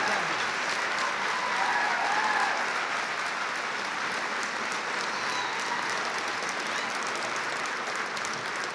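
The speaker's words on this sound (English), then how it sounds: "another round of applause for the ROTC" Sustained, even applause from a large audience honoring ROTC cadets at a school district recognition night, continuous and moderately distant with no clear talk.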